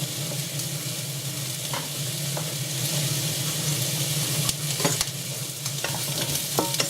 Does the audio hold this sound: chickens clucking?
no